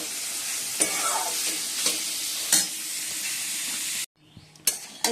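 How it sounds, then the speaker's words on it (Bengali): Beans and carrots frying in a pan with whole spices, a steady loud sizzle and hiss with periodic stirring scrapes, briefly cutting out before resuming. "এদিকে বিনস গাজর ভেজে নিচ্ছি"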